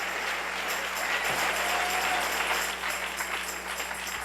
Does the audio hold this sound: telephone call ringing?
no